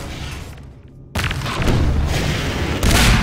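A grenade blast in Half-Life 2 Deathmatch: a short quiet dip, then a sudden loud boom that settles into a sustained rumble, with a second burst of noise near the end.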